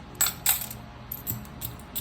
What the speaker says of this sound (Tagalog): Ang dami kong barya sa harap eh.